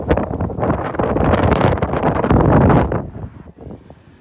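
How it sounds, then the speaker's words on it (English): Loud gusting wind buffeting the microphone outdoors for a few seconds, then dropping away to a quieter breeze. "It's a little windy out here."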